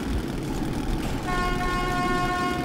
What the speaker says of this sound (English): It's the honk of death.